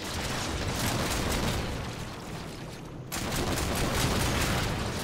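Sustained, dense gunfire from a firefight in the video game Warframe, loud and continuous with a brief dip before resuming, no talking.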